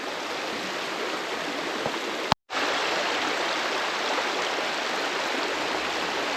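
McMichaels Creek flowing, a steady, even rush of water heard close by, broken by one brief dropout partway through before the flow resumes unchanged.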